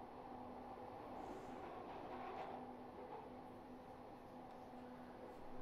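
A Glasgow Subway train runs steadily toward Partick Outer, with a continuous rumble and a faint high whine. The hum keeps a fairly even level throughout and carries no talk.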